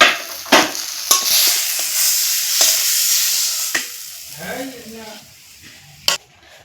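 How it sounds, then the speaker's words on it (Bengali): A spoon stirs potato filling as it fries in a pan, with a steady sizzle broken by several sharp scraping knocks, loud and close, and a voice briefly audible near the end. "নাড়াচাড়া করে এই পুরটা রান্না করে নিয়েছি এখন আমি নামিয়ে নিচ্ছি"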